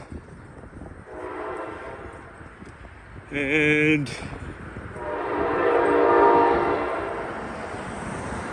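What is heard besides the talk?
train passing with horn sounding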